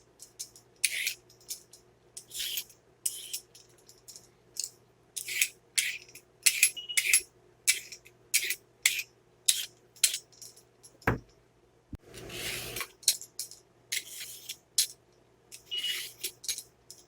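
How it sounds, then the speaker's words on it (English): Carrots are peeled in quick, close scraping strokes, short bursts in an uneven rhythm with small pauses, and a single low thump partway through. "Go ahead and start with my carrots. Go ahead and start to peel them."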